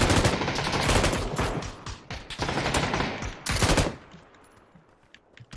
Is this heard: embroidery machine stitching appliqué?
no